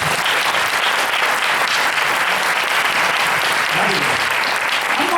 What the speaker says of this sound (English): And when you like what I say, you can always clap.